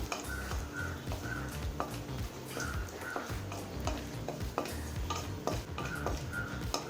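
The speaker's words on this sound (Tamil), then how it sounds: "இப்போ பாதாமும் முந்திரியும் செவந்துருச்சு." Cashews and almonds frying in a pan for pumpkin halwa produce a quiet, steady sizzle broken by repeated scraping and stirring clicks at an irregular rhythm.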